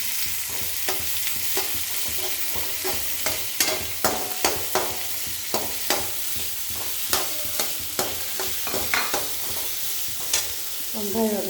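Onions fry in a pan for an aloo gobi paratha stuffing. A continuous, close sizzle runs throughout, punctuated by regular scraping clicks of a spoon stirring.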